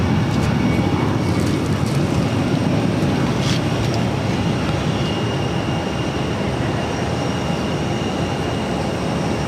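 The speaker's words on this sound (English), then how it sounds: "This is American Airlines 2144 taking off to Washington Reagan National on the A319." An American Airlines A319 airliner taking off from Boston Logan, a loud, steady broadband jet roar that holds constant throughout, heard from a distance without voices.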